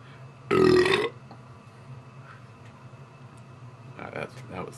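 A single loud, throaty belch bursts out and lasts about half a second, followed by quiet room tone and a faint stir of movement.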